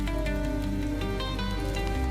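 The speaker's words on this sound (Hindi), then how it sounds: "उधर मंगतू बरसात के मजे ले रहा था तो वहीं लखन का परिवार तेज बारिश में बीच सड़क पर भीग रहा था" Heavy rain pours steadily as a cartoon sound effect, a dense continuous hiss with layered music tones underneath, no voices.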